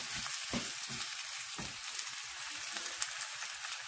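Chinese-style fried rice with shrimp sizzling in oil while being stirred, a close, continuous crackling hiss with occasional scrapes, no talking.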